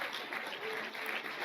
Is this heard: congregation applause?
yes